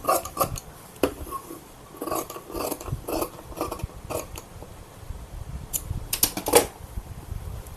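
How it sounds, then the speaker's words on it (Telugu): Scissors cutting cloth for a prince-cut peplum blouse, a series of sharp snipping and clicking strokes at irregular intervals, close and fairly quiet, with no talking. "ఇప్పుడు నేను ఈ ప్రిన్స్ కట్ అనేది కటింగ్ చేసేస్తున్నాను"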